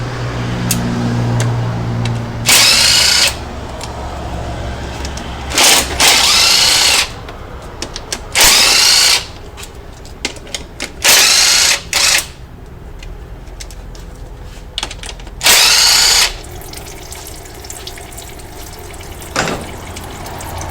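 A power drill whirs in several loud, short bursts while removing transmission pan bolts on a Ford Territory with a BTR four-speed automatic, separated by pauses with faint clanks and background noise.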